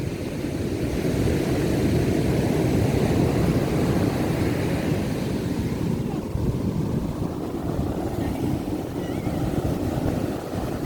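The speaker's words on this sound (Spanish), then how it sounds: "Vamos a dejar grabando aquí las olas" Ocean waves break on a beach in El Salvador in a constant heavy, low rumbling roar that stays loud and close for the whole stretch, with no clear voices.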